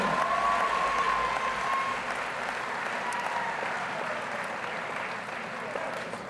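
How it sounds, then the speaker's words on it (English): A crowd at a high school academic awards ceremony gives the seniors a round of applause, continuous dense clapping that gradually softens over several seconds, with a faint tone briefly audible early on. "One more round of applause, please, for the seniors of F40."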